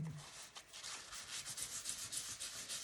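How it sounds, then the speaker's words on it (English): A soft, quiet rubbing as ink is worked over heat-embossed card stock with a towel, a close, papery brushing in short uneven strokes. "And I'm rubbing it over my embossing."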